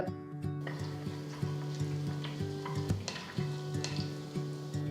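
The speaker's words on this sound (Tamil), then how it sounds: "ஒரு டீஸ்பூன் சீரகம் சேர்த்து வறுத்துக்கோங்க" Cardamom, cloves and cumin seeds sizzle and crackle in hot oil, with a spoon scraping and stirring the pan at intervals, close up.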